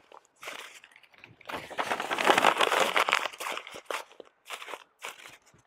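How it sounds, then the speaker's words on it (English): Construction paper gets crumpled by hand into an apple-sized ball, giving close, loud crinkling and crunching that builds in the middle and then breaks into short bursts. "you just crumple it into a ball so that it's about the size of an apple"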